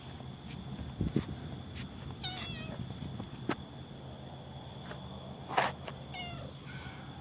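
A few faint, high meows come and go against a quiet background hum, with a couple of soft thumps between them.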